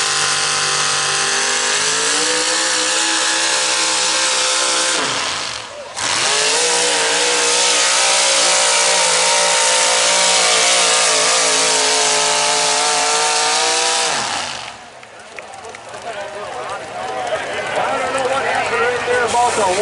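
A modified 4x4 truck roars at a 2022 tractor pull in Jordan, Minnesota, its engine revving loud and close in long sustained pulls with pitch sweeps and two brief drops. Faint crowd or commentary sits beneath it.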